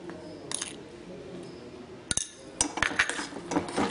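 Rava (semolina) being stirred with ghee in a pan for sajjige, a jaggery-sweetened rava kesari. Intermittent metallic clinks and scrapes of a spoon against the pan, with a brief sharp knock midway and busier clattering toward the end.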